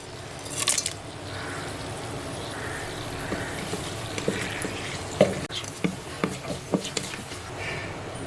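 Whole spices, including dried red chili, bay leaves, cinnamon, cloves, green cardamom and black pepper, sizzle in hot oil in a Geek Robocook electric pressure cooker, with a steady fry and intermittent close stirring scrapes and taps.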